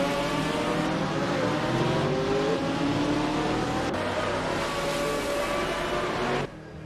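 GTR race cars roaring in a simulated video game race, a dense, sustained engine drone with shifting pitch as cars rev and pass, loud and unbroken before cutting off abruptly near the end.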